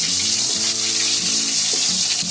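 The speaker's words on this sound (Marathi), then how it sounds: "आता इथे गरम मसाला आपला मस्त फ्राय झालाय." Garam masala frying in oil in a pan for prawn biryani, a loud, close, continuous sizzling hiss with faint bubbling underneath, steady throughout without speech.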